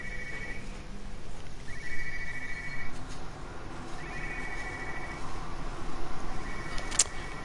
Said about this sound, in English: let's follow this phone noise instead